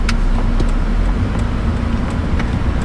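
A car drives along a road, a steady low engine and tire rumble with constant road noise and faint intermittent ticks, heard from inside the vehicle.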